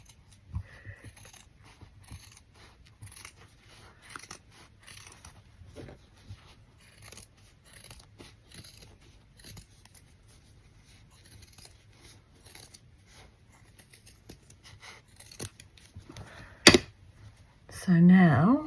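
Scissors cut through fabric in a long run of crisp snips, close and clear, with a louder rustle and handling near the end.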